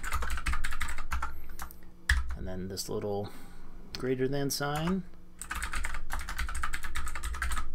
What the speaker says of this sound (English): So type this, echo, this is my first script.